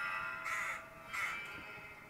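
Crows caw twice, clear and fairly close, each harsh call lasting about a quarter second and the second following roughly half a second after the first, over a soft steady background hiss with no speech.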